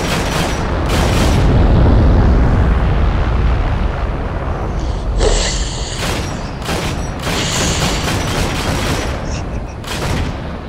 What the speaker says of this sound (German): Bombe.